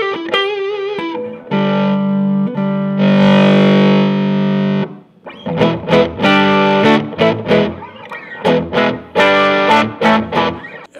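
Studio Lead tube guitar amp on its dirty channel turned all the way up, loud saturated distorted chords and sustained notes with gritty overdrive, ringing held tones giving way to choppy rhythmic strummed bursts, no voices.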